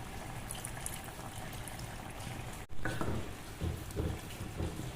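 A pot of ridge gourd and dried prawn curry simmering on the stove, giving a soft, steady bubbling hiss with a sharp clatter partway through and a few louder bursts of bubbling after it.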